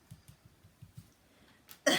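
A run of short, soft coughs from a person recovering from bronchitis, repeated in a quick rhythm close by, ending in a louder harsh burst.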